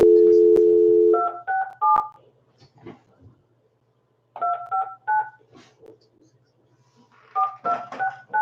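Telephone keypad tones as a number is dialed: a steady dial tone, then three quick bursts of paired dual-tone beeps separated by pauses, loud and close, with faint voices murmuring in between.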